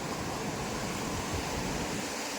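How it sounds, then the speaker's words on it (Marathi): Sea waves break hard against rocks at Vayangani beach in Ratnagiri, a dense continuous roar of surf with no talk. "तिथून समुद्राच्या लाटा एकदम जोरात आपटतात त्या साईडला"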